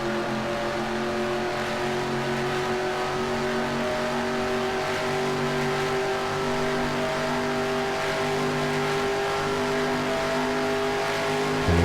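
Race car engine in the video game NASCAR Racing 2003, a steady, loud, continuous drone with sustained harmonic tones and a slight rev near the end, no voices.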